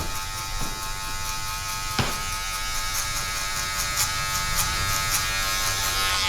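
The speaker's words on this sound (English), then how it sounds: "Like I said, now we're going clipper close again." Electric hair clippers cutting a fade guideline during a design haircut give a continuous close buzzing hum, steady throughout with small rises in pitch and a few brief clicks.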